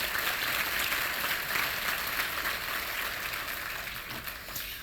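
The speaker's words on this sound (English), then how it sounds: "can we please give this first round of nominees" Audience applause for award nominees at a regional chamber ATHENA Award ceremony, a steady wash of many hands clapping throughout, fairly distant and slowly tapering toward the end.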